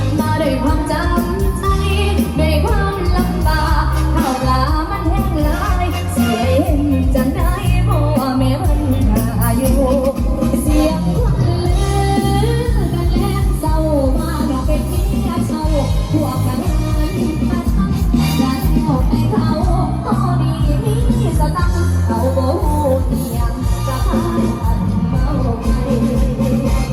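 Loud, bass-heavy music booms continuously from a large outdoor sound system with two pairs of 18-inch subwoofers, deep low end dominating with a dense, slightly distorted mix.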